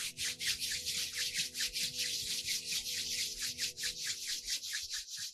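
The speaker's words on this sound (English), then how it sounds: "now rub your hands" Two hands rub briskly together close to the microphone, a rhythmic dry swishing of skin on skin that repeats about four times per second, steady and unbroken for several seconds with no voices.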